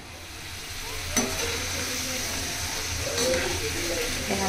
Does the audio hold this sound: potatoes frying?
yes